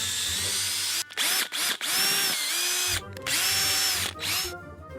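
A power drill whirs in several short bursts, starting and stopping with brief gaps between, close and loud, with no talking.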